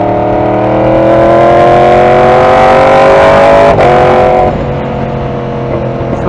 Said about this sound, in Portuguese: não gosta do barulho do motor crossplane